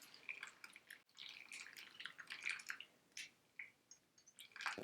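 Pour-over coffee drips through a paper filter in a quiet kitchen, with soft, irregular trickles and droplets, faint and close, continuing alone for several seconds.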